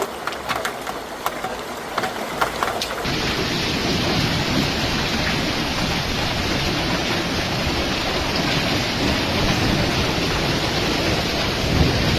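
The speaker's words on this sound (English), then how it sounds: "The storm hits Lleida." Hailstorm with thunder and rain over Lleida, Spain, where stones grew several centimeters across: a dense, steady roar of falling ice and rain with a low rumbling undertone that thickens suddenly and persists loud throughout.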